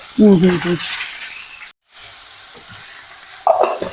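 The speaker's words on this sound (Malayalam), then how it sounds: "ഇനി വെളുത്തുള്ളി ഇഞ്ചി അരിഞ്ഞത് അങ്ങോട്ട് ഇടാം രണ്ടും ഒരുമിച്ച് ഇടും" Chopped garlic and ginger sizzle in hot oil in a pan for a fish curry, a steady close hiss with a short break and a brief voice near the end.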